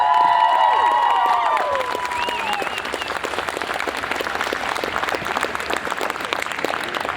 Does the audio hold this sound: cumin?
no